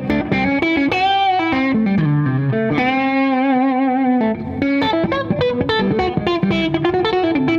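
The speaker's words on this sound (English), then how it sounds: "You get the bridge and the neck together, which sounds like this." A G&L Tribute Will Ray electric guitar played with bridge and neck pickups combined, giving a bright, driven tone through effects, with chords and sustained notes ringing loudly and alone.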